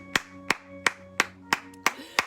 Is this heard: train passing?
no